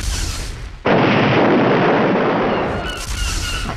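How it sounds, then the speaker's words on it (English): A bomb explosion on a pier test trolley bursts in suddenly as a loud, broad roaring blast, holding heavy for about two seconds before easing off, over a low background rumble. "the bomb blew up when it hit the buffer"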